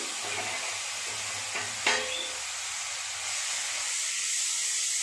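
Grated onion frying in a pan, a steady sizzling hiss with one brief scrape of stirring partway through, no voices.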